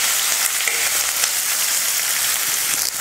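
Large onions sliced lengthwise sizzle in hot oil with cardamom pods, cinnamon sticks and cloves for a mutton bone curry, a steady, close, dense frying hiss that holds without a break.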